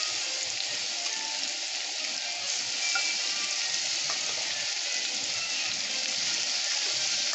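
Steak bites frying in a pan over medium-high heat, a steady close sizzle and crackle that runs unbroken throughout with no talking.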